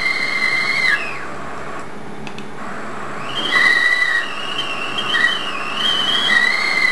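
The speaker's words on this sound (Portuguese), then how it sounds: "Isso é o barulho de uma chaleira chiando." A kettle whistles shrilly, a high steady tone that breaks off, pauses, then returns wavering in pitch, close and fairly loud with no talking.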